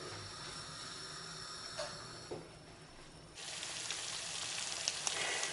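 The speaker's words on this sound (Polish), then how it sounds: "I teraz się to tak ładnie dusi pod przykryciem" A steady low sizzle and hiss from food stewing in a covered pan on the stove, with a couple of soft clinks, growing a bit louder and brighter toward the end.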